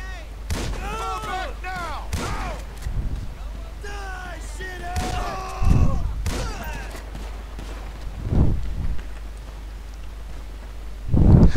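Shotgun blasts in Grand Theft Auto V, several heavy booms spaced a few seconds apart among game sounds, with someone talking over much of it.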